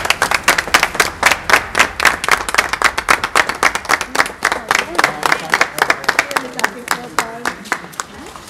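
A small group claps in a steady, rhythmic beat as someone enters a newly built social housing home, loud and close, with voices talking and cheering under the clapping.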